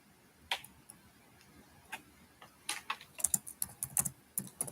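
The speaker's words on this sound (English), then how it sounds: "Hold on, let me type it." Keys on a computer keyboard are typed in quick, uneven bursts of clicks, sparse at first and then denser, close and fairly quiet with no talking.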